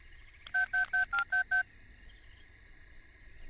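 Six short, evenly spaced telephone keypad dialing tones beep in quick succession during a Telugu film scene, clear against a quiet background with no talking.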